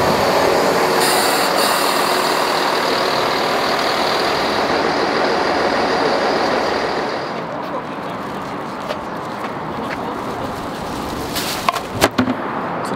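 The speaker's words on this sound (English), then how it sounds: "train coming in now" A train rumbles into a station steadily with broad, rolling noise that eases partway through, followed by a few faint squeals and clanks near the end.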